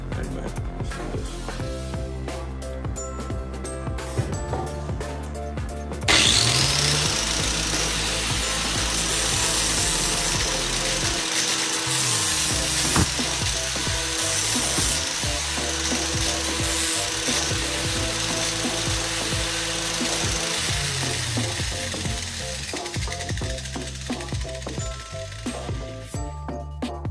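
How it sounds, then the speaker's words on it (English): An angle grinder sands down the edge of a shovel handle, a steady loud whir that starts abruptly partway through and runs continuously with slight pitch shifts, preceded by quieter workshop noise. "take the handle and just sand down this edge on here"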